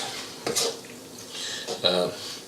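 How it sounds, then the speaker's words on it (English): A spoon scrapes and clinks in a pan as sliced medium rare steak is stirred into gnocchi sauce, giving two or three short metallic strokes over a quiet background. "I'm going to take this steak that I cut, cooked, and then it's medium rare steak, and I'm just going to stir it in there"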